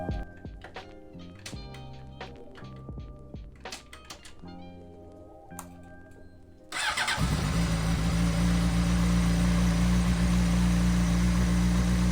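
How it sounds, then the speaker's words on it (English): A motorcycle is being run after fuel stabilizer was added, likely in a garage; faint clicks and clanks come first, then the engine fires and settles into a loud, steady idle that continues to the end. "we can add the stabilizer and then run the bike for a couple minutes"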